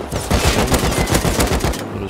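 Rapid AK rifle fire in the game Rust, a close, loud burst of repeated shots in quick rhythm lasting nearly two seconds before cutting off.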